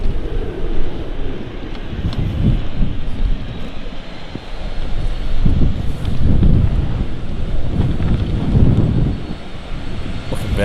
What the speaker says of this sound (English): That's ridiculous, that wind.